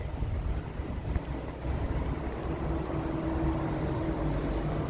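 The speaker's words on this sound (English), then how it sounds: "It's pretty windy here." Steady, loud wind rumble buffets the microphone throughout on an evening street walk in Tokyo, a broad low roar with no pauses and no voices.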